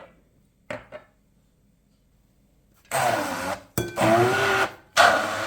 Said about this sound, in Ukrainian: буду збивати погружним блендером